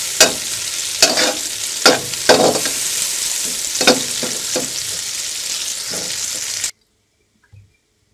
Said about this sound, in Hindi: 2 से 3 मिनट तक फ्राई कर लेंगे इसे